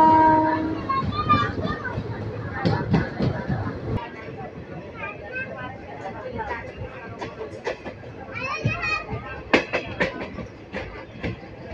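Bidar intercity express train slowing into its first stop at Zaheerabad, with a horn blast at the start over steady rumbling and clattering wheels, and voices and platform noise throughout.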